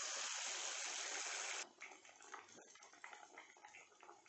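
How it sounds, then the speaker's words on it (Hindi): Batter-dipped chicken pieces fry in hot oil, with a loud, dense sizzle at first that settles into a quieter, crackling bubble close by. "चिकन के पीसेस हमारे अच्छे से फ्राई हो रहे हैं।"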